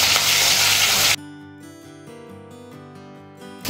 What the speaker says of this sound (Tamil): இது எல்லாத்தையும் நல்லா வதக்கிக்கோங்க